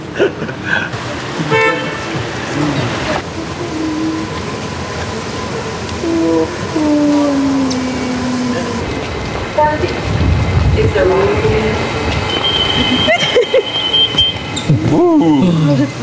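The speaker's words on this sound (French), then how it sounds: "Donc bah du coup métro du Bosphore." A Bosphorus metro train runs underground with a loud rumbling roll, rising metallic screeches and squeals, and a brief horn-like toot, while people talk over the noise.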